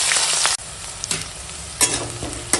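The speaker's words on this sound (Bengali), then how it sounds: "তেল গরম হয়ে গেছে, এখন দিয়ে দিলাম তেজপাতা, 5 ফোড়ন, আর দিয়ে দেবো কেটে রাখা পেঁয়াজ," Bay leaf, panch phoron five-spice, chopped onion and green chili frying in hot oil, a steady loud sizzle with bursts of fresh spitting at about one-second intervals as ingredients hit the pan and are stirred.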